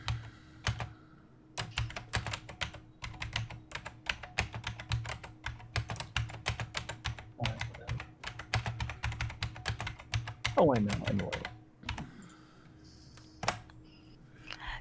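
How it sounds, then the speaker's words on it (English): Rapid, forceful clacking of keys on a computer keyboard goes on in uneven bursts, close by, with a brief spoken remark partway through. "it always sounds like you're beating your keyboard into submission"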